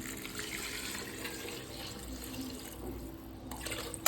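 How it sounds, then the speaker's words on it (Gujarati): Steady running water splashes into a cooking pot for tempered rice for about four seconds, a continuous broadband rush at moderate level with no voices. "હવે આમાં પાણી નાખી દેવાનું છે"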